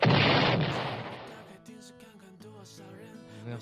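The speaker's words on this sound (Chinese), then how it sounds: "炸弹。" A loud game bomb explosion effect in a Chinese card game bursts at the start and decays over about a second and a half, followed by quieter jingling game music.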